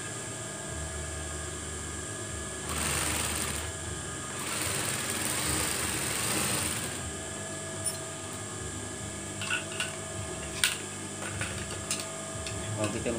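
A sewing machine runs in a steady buzzing burst for about four seconds while stitching a classic-style curtain, followed by quieter clicks and handling noises.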